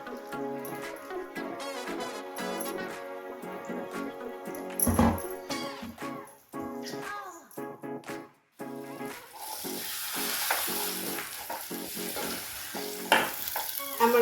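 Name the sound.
stirring coconut milk modak dough in pan until thick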